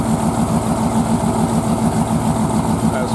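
Several tuned V8 race boat engines idle together at a marina during scrutineering, a steady low throbbing rumble with an even pulsing rhythm, close and continuous for the whole stretch.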